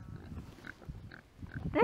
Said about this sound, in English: Can you hear my pigs?